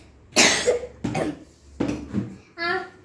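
A person sick with fever coughs at home: three harsh, close coughs about a second apart, followed by a short voiced, throat-clearing sound.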